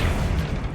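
The Accio summoning spell goes off in Hogwarts Legacy with a short, heavy whooshing thump, loud and low, lasting under a second and heard on its own.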